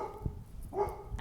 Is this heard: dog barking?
yes